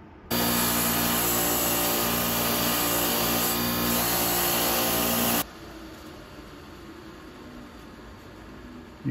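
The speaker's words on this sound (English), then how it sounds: "I think I'll do the rest of that with the Dremel" A Dremel rotary tool whines at a steady, loud pitch while grinding rust off a screwdriver, then cuts out abruptly partway through, leaving a quieter background hum.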